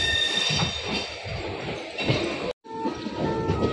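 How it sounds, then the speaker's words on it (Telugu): The Ratnachal Express passenger train pulls into a platform at Vijayawada, a steady rolling rumble with faint high squealing tones and a brief cutout near the end. "ప్లాట్ఫామ్ 2లోకి అది వెళ్తుంది మన ట్రైన్"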